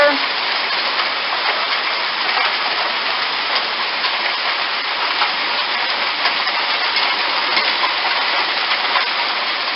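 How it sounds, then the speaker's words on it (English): Small, tiny hail falling on a truck, a dense steady patter of pellets striking the surface, loud and continuous throughout without pause. "this is the little tiny hail"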